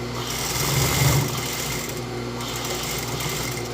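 A sewing machine runs in a continuous fast, even whir close by, restitching a seam on a dress to strengthen it, with no voices.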